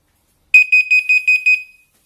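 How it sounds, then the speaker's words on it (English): A WP6 alarm system base unit, which doubles as a motion sensor, sounds a loud electronic alarm: six rapid high-pitched beeps in quick succession after silence, then stops. "this base unit keeps going off because it's also a motion sensor."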